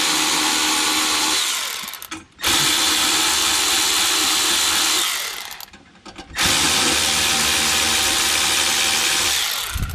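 An electric power tool unscrews bolts on a lockable metal medicine cabinet in a 2022 Ford Bronco Wildtrak. Three long, loud, close whirring runs are each cut by a brief pause, and the motor pitch dips as it slows.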